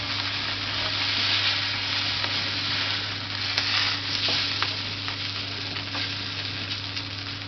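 Pork fillet with a quinoa herb crust sizzles and hisses steadily in a frying pan, a loud continuous broadband fry with occasional crackles and a low hum beneath.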